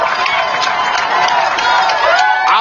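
A high school football crowd cheers loudly and steadily through overtime, a dense roar of voices filling the stands from start to finish.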